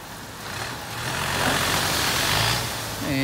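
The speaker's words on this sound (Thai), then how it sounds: "โอ้ท่อครับเร่งเครื่องนั่นจ้ะ" A ten-wheel dump truck hauling stone for road work revs its engine, a loud close exhaust roar swelling in the middle and easing off, with no speech over it.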